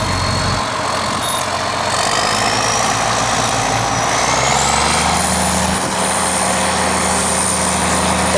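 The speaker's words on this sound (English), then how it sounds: "He's gonna ride a corn harvester!" A corn harvester's engine runs steadily at close range, a loud continuous drone with mechanical whine that holds throughout, pitch shifting slightly as it works.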